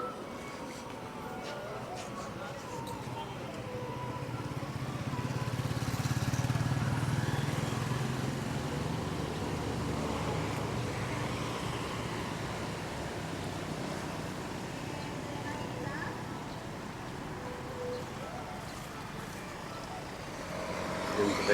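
Jammed city street traffic near Nagoya Hill in Batam: a continuous rumble of car and motorbike engines that swells and fades, heard from within the traffic, with a little talk.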